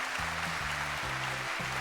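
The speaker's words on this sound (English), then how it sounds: "Good God, you guys are clapping for a really long time." An audience of students and professors in the anime Steins;Gate claps steadily, a dense, even patter of applause with a low musical drone underneath.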